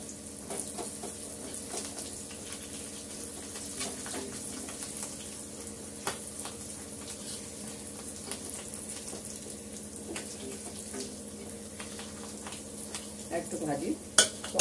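Dry red chilli, cumin and asafoetida sizzle in oil while tempering arhar dal, a steady low frying crackle with occasional stirring clinks, rising in a few louder spatters toward the close.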